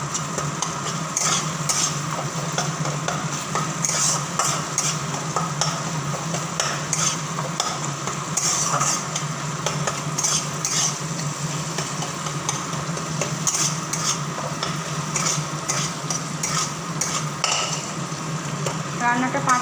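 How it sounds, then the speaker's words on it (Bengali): A spice paste (masala) being stir-fried in a pan, with constant sizzling and repeated scraping of a spatula against metal, loud and close throughout. "মশলাটা একটু 5 মিনিট ধরে এটা কষাতে হবে"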